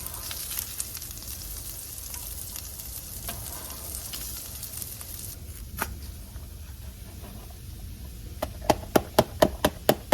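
Onions and sausage frying in a casserole dish, a dense steady sizzle throughout, ending with a quick run of sharp rhythmic taps as a utensil spreads the pieces out.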